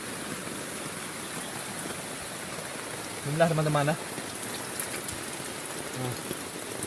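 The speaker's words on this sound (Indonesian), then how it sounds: "Memang hujan lebat" Heavy rain pours steadily onto a tent at a riverside campsite, a dense, constant hiss of drops and running water filling the whole stretch while someone speaks briefly in the middle.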